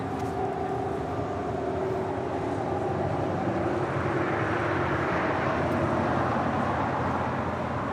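An airliner departs from a south-side runway at LAX, its engines making a continuous broadband roar with low droning tones that swells gradually over several seconds, heard from a distance with no speech.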